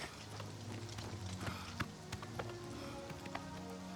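Bay horse hooves clip-clopping in the video game The Elder Scrolls IV: Oblivion Remastered, a steady run of close hoof taps over a dense layer of game ambience and music.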